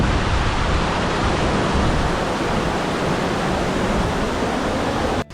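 A waterfall in the Konkan region near Ratnagiri roars as a steady, dense rush of falling water, close and loud for several seconds with no voices over it.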